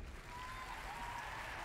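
Applause from executives in a Spider-Man video game cutscene: a brief, soft, steady patter of clapping with a faint tone running underneath.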